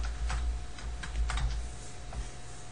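Quick bursts of keystrokes on a computer keyboard while entering text in accounting software, steady close taps over a low background hum, no voices.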